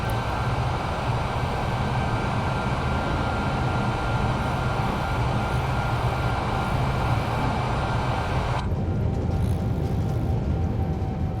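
A simulated airplane taxis in Microsoft Flight Simulator 2020 on a flight from Memphis to Little Rock, producing a loud steady engine drone and whine that continues throughout, with the high hiss abruptly thinning near the end.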